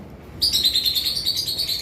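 Rapid, high-pitched chirping of caged lovebirds, including albino birds, continuous and fairly close, a busy twittering chorus without any voices.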